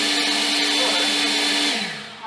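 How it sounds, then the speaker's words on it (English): A Kobalt 24V cordless blower runs loud and steady as a broad airy roar with a constant whine, then winds down near the end of the short burst, with no talk over it. "Let's see if this one will blow across the bench."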